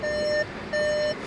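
Two clear electronic warning beeps from a 2023 Volkswagen Atlas V6, each about half a second long, sound with a short gap between them over faint background hiss.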